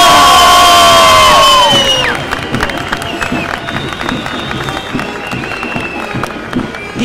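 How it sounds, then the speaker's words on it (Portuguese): Crowd cheering and clapping at a carnival event in Torres Vedras, opening with loud sustained whoops and shouts that drop into continuing applause and scattered cheers from many people. "uma grande salva de palmas para o novo rei do Carnaval de Torres!"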